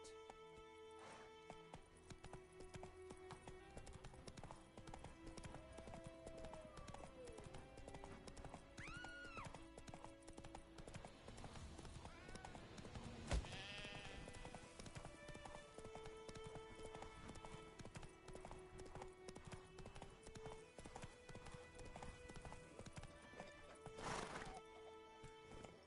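Roach the horse in The Witcher 3, trotting with steady rhythmic clip-clop hooves and letting out a clear whinny, alongside layered game sounds and music.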